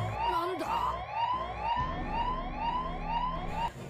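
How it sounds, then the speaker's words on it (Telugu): A loud electronic alarm siren in an animated series wails in quick, repeating rising sweeps, cycling steadily without pause, with some rumbling noise underneath at the start. "అప్పుడే సైరన్ మోత మోగుతూ ఉంటుంది"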